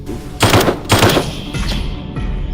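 Gunfire in the VR shooter The Light Brigade, two quick bursts of loud close shots followed by a fainter shot, with a game background behind them and no talking.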